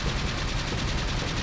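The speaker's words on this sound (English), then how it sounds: "I'm gonna shoot him until he does that doubled over thing" Rapid gunfire from Resident Evil 4 rattles continuously in a dense burst, loud and close with fast repeating pulses throughout.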